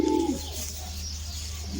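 A pigeon gives one loud, close coo right at the start, then the sound falls to a quieter backdrop of soft bird noises over a steady low hum, with no talking.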